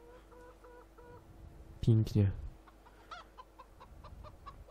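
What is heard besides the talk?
chickens and a rooster clucking in video game Farming Simulator 2015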